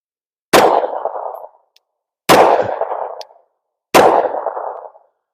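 An OAK Plus 9mm gun fired three times: loud, close, evenly spaced shots, each with a sharp crack and a ringing decay of about a second into silence, with no talk.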